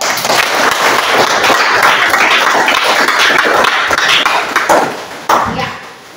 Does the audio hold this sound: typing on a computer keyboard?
no